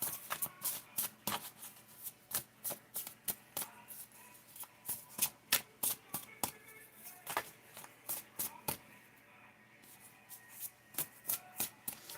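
An oracle card deck is shuffled by hand at close range, giving a quick train of crisp riffling bursts with short pauses between them and no talking.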